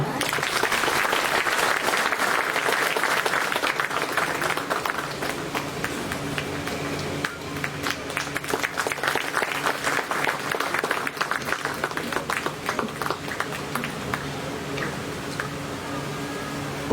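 An audience claps for honoured guests at an Independence Day ceremony, a sustained burst of crowd applause that thins into scattered claps, with a voice speaking over it in a hall.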